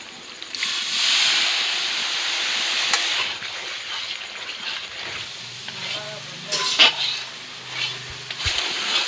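Chicken masala mixed with water hits onion and garlic frying in a pan, bursting into a loud hiss that then settles into a steady sizzle, with stirring clatter and a few clinks near the end.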